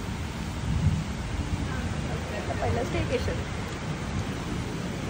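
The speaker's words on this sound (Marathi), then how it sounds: "पाऊस चालू झालेला आहे" Steady rain falls during the first monsoon downpour at a resort near Pune, a dense broadband hiss running throughout with low rumbling underneath, while people talk over it.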